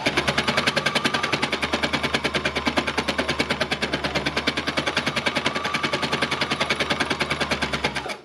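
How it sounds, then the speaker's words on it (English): A needle-felting embellishing machine punches fabric with a rapid, steady mechanical rattle, a fast even chatter over a low motor hum, loud and continuous throughout with no talking. "that's got a much softer sound than the other fabrics when I'm embellishing it down"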